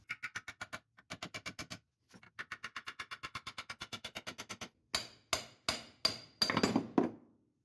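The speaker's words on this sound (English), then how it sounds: "Why would you hammer against the pipe plug?" Hammer blows on a pipe plug of a 1950 Ford 8N tractor with a hydraulic problem: several quick rhythmic runs of light metallic taps, then slower, heavier ringing strikes, close and alone.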